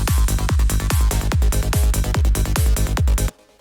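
Aggressive psytrance synth lead melody repeating over a pounding kick drum at a fast driving tempo, loud and dense, cutting off abruptly near the end.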